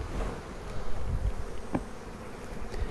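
Honeybees buzz around an open hive being smoked, a dense, continuous hum close by, with individual insects droning past and a few soft knocks underneath.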